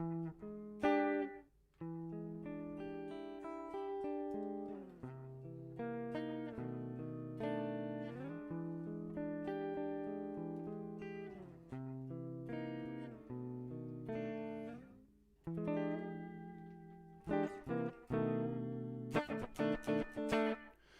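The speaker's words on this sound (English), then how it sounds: "Let's try this vintage slapback because that was interesting." An electric guitar plays sustained notes and chords through a vintage slapback echo from Klevgrand's Rum room simulator app on iOS, a short, tight echo doubling each note, with brief pauses and sharper plucked hits near the end.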